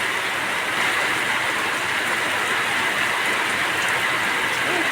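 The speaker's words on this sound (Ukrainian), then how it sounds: "Не вітру, а дощ лупить." Heavy rain pours down in a dense, steady hiss, loud and constant throughout with no pauses.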